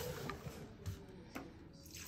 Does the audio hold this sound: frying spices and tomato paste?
no